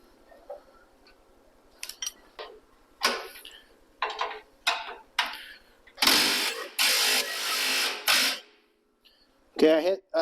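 Tool work drawing in frame bolts on a 1973-1979 Ford short bed truck during a frame conversion: a series of short sharp mechanical bursts, then a longer loud run of ratcheting or impact sound, close up.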